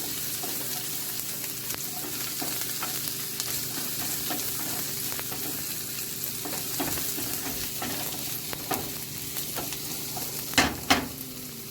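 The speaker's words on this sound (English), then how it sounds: "Just going to stir that up a little bit there" Food sizzles steadily in a hot pan while a utensil stirs it, scraping and clicking softly through a continuous frying hiss, with a couple of sharper utensil knocks near the end; close and fairly quiet.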